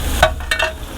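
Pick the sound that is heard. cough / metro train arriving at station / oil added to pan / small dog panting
oil added to pan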